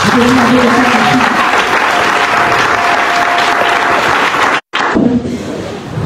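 A church congregation applauding the Lord during a worship service, a loud, dense sustained round of clapping from a large crowd with voices mixed in, cutting off abruptly near the end before a softer tail.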